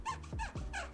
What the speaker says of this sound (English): It is a squeaky marker